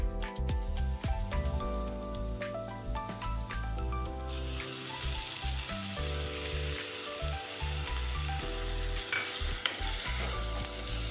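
Onion with tomato puree frying in oil for a spinach gravy, a steady hiss that swells brighter halfway through, running under a tonal background melody.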